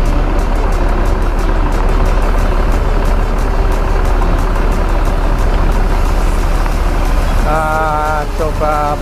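A Mercedes-Benz Putra Pelangi luxury bus idles at Kampung Rambutan terminal, a loud, steady diesel drone close by that fills the whole clip, with a short tonal chirp near the end.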